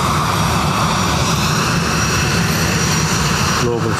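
A Bombardier Global 5000 business jet departing Dublin Airport gives a steady, loud, broadband engine roar that fills the whole stretch without letup, with voices talking faintly underneath.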